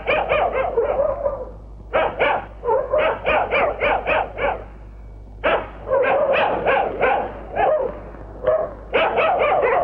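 A dog barks in repeated bursts, loud and close, with short pauses between volleys and no talk over it.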